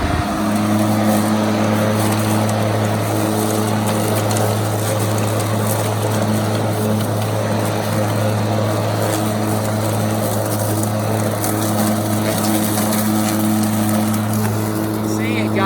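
Stihl cordless electric push lawn mower running steadily through very tall grass, a loud continuous motor hum and blade whir with a low drone throughout, no pauses.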